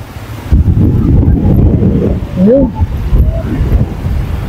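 Strong wind batters the microphone near Taal Volcano, with big waves on the water, a loud, constant buffeting roar with gusts, and a brief whistling tone partway through.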